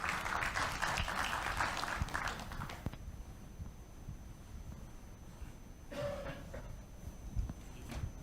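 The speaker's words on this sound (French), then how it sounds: "Sous vos applaudissements, s'il vous plaît." Applause from a conference audience at a Morocco brand event, steady and fairly loud for the first few seconds, then dropping to a fainter patter with a brief swell near the end.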